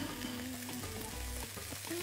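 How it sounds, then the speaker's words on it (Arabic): Half-boiled seafood searing in a pan with almost no oil, grill-style, giving a steady soft sizzle with light stirring scrapes throughout. "كأني بقلبه في الطاسة كده كأنها جريل."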